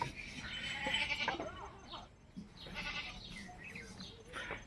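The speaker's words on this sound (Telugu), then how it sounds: "మేము మేక తెచ్చినాం ఒకటి," A goat brought home from a family house bleats in several wavering calls close by, with quiet background noise and no talk between the calls.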